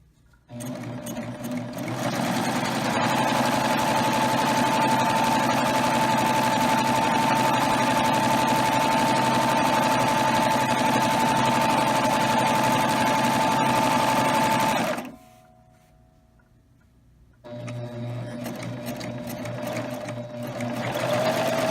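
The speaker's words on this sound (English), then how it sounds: "So I'm ready to sew on my waistband using the beautiful wave stitch." A Baby Lock serger sews a waistband with a wave stitch, running loud and steady with a high motor whine for about thirteen seconds, pausing briefly, then starting again.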